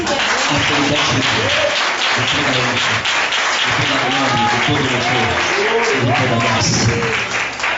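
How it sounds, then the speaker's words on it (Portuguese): At a church service, an audience claps in a steady wash of applause that continues throughout, while a voice speaks or calls out over it. "dê uma linda salva de palmas"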